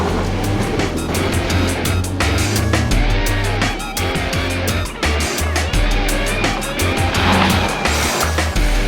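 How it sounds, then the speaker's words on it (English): A 2013 Volvo XC60 T6 AWD floored on a Colorado mountain off-road trail, engine roaring in rough bursts with gravel and dirt clatter as the wheels spin, loud and close, with brief cuts in the noise. "I'll floor it, and the front wheels should spin"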